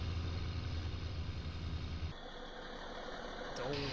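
A tractor engine in Farming Simulator 19 drives steadily toward a field corner while round-baling grass, its low rumbling drone loud for the first half, then dropping to a quieter hum with brief tonal whines near the end.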